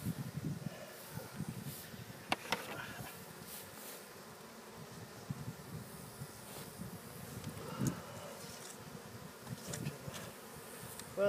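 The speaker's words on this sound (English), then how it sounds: "there's maybe a half dozen bees in the air" Honey bees from a swarm buzz in the open air, a few insects drifting near and far with soft, uneven hums over light wind and rustling.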